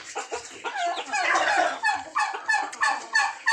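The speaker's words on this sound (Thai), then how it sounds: "ไก่งวงรุ่นเล็ก รุ่นประมาณเดือนหนึ่ง" Young turkeys, about a month old, on a poultry farm give repeated clucking and chirping calls in quick bursts, close and moderately loud, with no voices.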